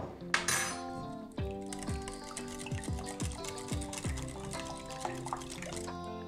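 A spoon stirring cheese, cold cuts and pepper in a bowl, producing a run of close, rhythmic clinks and scrapes of utensil against the dish, with no talking.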